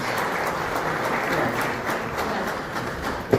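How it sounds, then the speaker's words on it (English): Sustained audience applause fills a hall at a Kosovo Independence Day celebration in New York City, a dense steady wash of many clapping hands with a sharper clap near the end. "Let's give a round of applause to the President of the Albanian Society of Law Enforcement."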